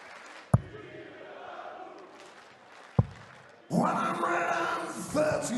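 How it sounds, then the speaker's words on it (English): A darts crowd at the PDC European Darts Open cheers and encourages a player, loud chanting and roaring bursting in after quieter murmuring and a couple of sharp thuds. "Crowd doing their best to get"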